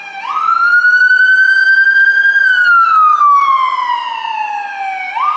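A loud ambulance or fire engine siren wails nearby, rising in a slow sweep, holding, then falling before starting to climb again.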